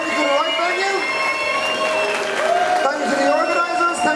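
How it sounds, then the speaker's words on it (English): Audience applause and some cheering for contestants and winners at the final of a Miss Polonia Ireland beauty pageant, loud and continuous, with tonal music or voices running over the clapping. "Give them a big round of applause."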